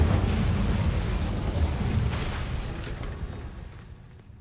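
Incendio fire spell cast in Hogwarts Legacy, a low roaring, whooshing burst that sustains with a rumbling body and slowly fades out over several seconds, heard alone without talk.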